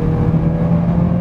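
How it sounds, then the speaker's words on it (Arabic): A 2021 Mazda 3 exhaust note while the car accelerates, a steady, loud low drone with a rising engine hum heard from inside the cabin, no talking. "فيها جزئية بسيطة وهي صوت الشكمان وانت بتتحرك لو انت بتقرص على العربية"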